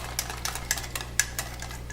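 Soy sauce is whisked into a flour mixture in a bowl for oven-baked spicy jerk chicken, giving quick, light, rhythmic clinks and scrapes of a whisk against the bowl, evenly spaced and close over a steady low hum.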